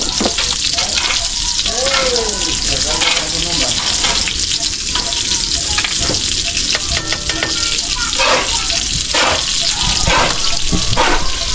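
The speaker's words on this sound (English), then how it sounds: "Time to cook that. This is for the shrimp." Shrimp frying in a hot pan, a loud steady sizzle and crackle that runs the whole time with occasional stirring clinks and faint voices in the background.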